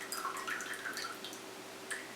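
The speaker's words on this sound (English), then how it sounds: "Pour it out," Pale steeped tea pours from a teapot into a mug, a soft, steady trickle with faint splashing and dripping, close and quiet, with no talking.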